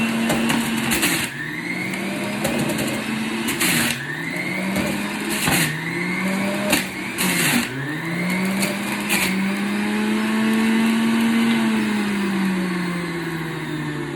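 A juicer grinds celery, carrot and ginger with a loud motor whine that keeps rising and falling in pitch, dipping each time another piece is pushed in, with sharp crunching bursts and no talk.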